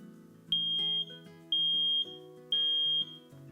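A Quell smoke alarm sounds its test signal, three loud piercing beeps in an even pulse, each about half a second long, close by over faint background music.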